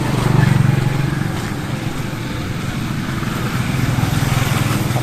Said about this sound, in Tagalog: Mga e-trike, yan, naka-convert po sa motor.